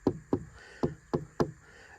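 Five firm knocks by hand on the body of a first-generation Volvo S80 sedan, evenly spaced and close, each a solid dull thud with no tinny ring, alone without talk.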